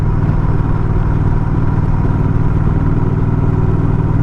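A motorcycle engine drones steadily at close range while riding in West Virginia, a continuous low mechanical rumble with no gaps or voices.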